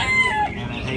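A rooster crows at a 2019 chicken beauty show in Hóc Môn, Ho Chi Minh City, Vietnam, one brief, loud and close call.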